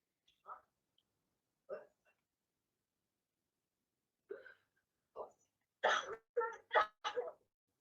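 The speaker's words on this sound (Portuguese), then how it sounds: "Observaram como ela tosse?" Several short, sharp spontaneous coughs from a nearby patient during respiratory physiotherapy, two spaced apart, then a quick burst of four or five coughs close together.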